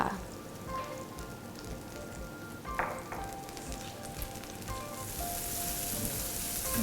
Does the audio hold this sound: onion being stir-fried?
yes